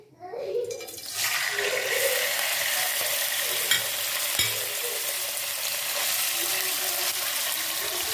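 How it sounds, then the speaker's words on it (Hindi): Chicken pieces drop into a hot pan and burst into a loud, continuous sizzle that settles into steady frying with a few clatters from stirring, close by and with no talk. "अब इसके अंदर डालेंगे हम जनाब ये चिकन"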